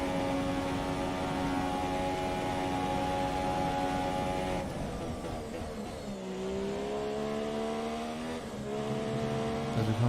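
A Formula 1 race car engine in an F1 video game runs rich at high revs. It makes a loud, sustained howl with a shift around the midpoint, then dips and climbs in pitch through corners.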